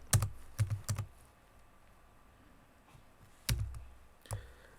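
Keys on a computer keyboard are tapped in a quick cluster of clicks, a pause, and then a few more taps, close and fairly quiet, while logging in to an IP phone's web page.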